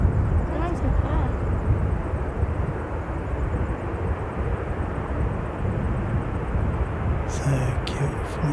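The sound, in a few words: aircraft approaching, heard while plane spotting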